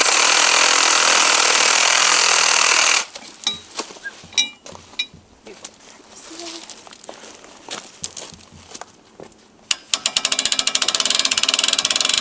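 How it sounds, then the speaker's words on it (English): A Sawzall reciprocating saw cuts through a deer spine on a butchering table, a loud rough buzzing at first, then clattering handling noises, before the saw starts up again in harsh rapid strokes. "we'll take a Sawzall to this buddy"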